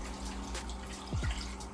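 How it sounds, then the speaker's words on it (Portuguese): Water pours into a cooking pot of meat for a traditional Bahian feijoada, a soft liquid splash and gurgle over low kitchen background noise. "colocando água aqui"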